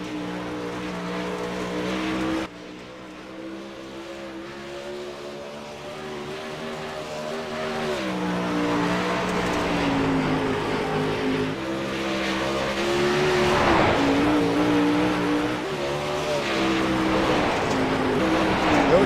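Race car number 11, driven on a circuit, roars steadily at close range for the whole stretch, its engine note rising and falling as it laps, with a sharp jump in loudness early on and tire noise mixed in.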